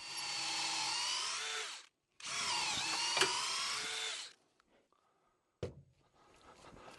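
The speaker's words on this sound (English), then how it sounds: "So we're going to drill that" A power drill whines loudly in two long bursts into poplar wood with a brief stop between, followed by a few quiet clunks and a sharp knock.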